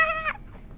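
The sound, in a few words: cat meowing in a video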